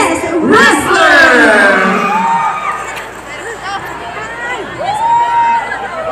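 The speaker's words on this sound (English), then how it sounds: "please welcome, with a big round of applause, our guest performer, Mr. Johannes Wrestler!" Loud crowd cheering, whoops and shouts greet a guest performer at a community event in Leyte, swelling near the start and flaring again toward the end amid crowd chatter.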